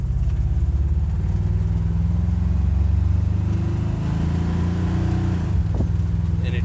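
A 1960 Ford F100 truck engine driving down the road, a steady loud low rumble that holds throughout with a slight throttle change near the end.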